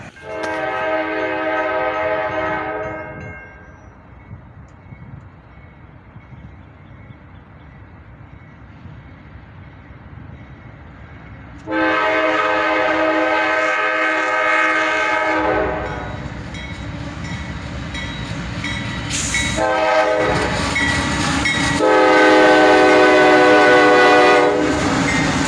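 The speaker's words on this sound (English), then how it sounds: "another southbound would come up." A southbound CSX freight train headed by a pair of AC44CW locomotives passes nearby, its horn blaring in long repeated blasts above the deep rumble and clatter of rolling wagons.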